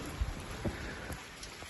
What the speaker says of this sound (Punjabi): ਲਓ ਜੀ ਮੀਂਹ ਪੈਣਾ ਸ਼ੁਰੂ ਹੋ ਗਿਆ